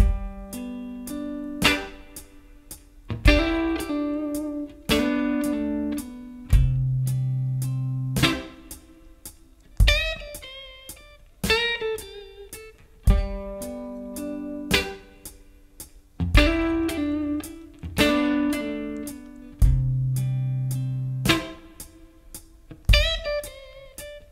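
Clean electric guitar picking chord phrases and licks, close and steady, with repeating two-chord patterns and decaying note attacks over about twenty-four seconds, no voice.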